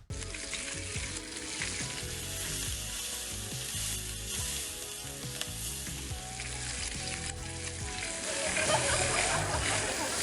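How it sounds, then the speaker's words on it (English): Bacon sizzles loudly and steadily in a hot frying pan, a dense crackling hiss with popping spatters that grows slightly stronger near the end. "Who doesn't love the sound of the sizzle, the crispiness, the crunch"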